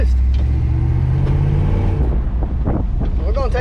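A 1978 Chevy square body truck's engine runs close by with a low steady rumble and some wind buffeting, while a voice talks briefly near the end.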